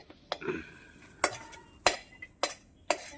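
A spoon stirs and scrapes a pitha filling with crushed cardamom around a pan, giving a series of sharp metallic clinks and taps at irregular intervals, close and clear against a quiet background.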